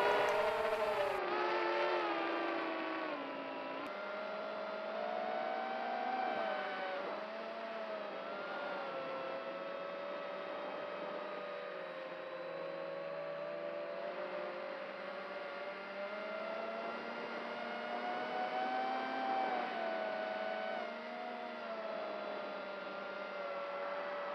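A 3-cell speed quadcopter's motors whine at high throttle, a steady multi-tone drone that wavers gently up and down in pitch throughout, fairly close and alone.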